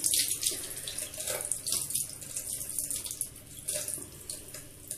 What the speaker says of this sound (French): Et je vais prendre 2 éponges à démaquiller. Que j'imbibe bien d'eau surtout.